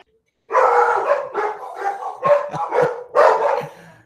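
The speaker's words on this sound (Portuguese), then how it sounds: "Olha os cachorros." Several dogs bark and yap together in a loud, overlapping flurry that continues for a few seconds after a brief silence.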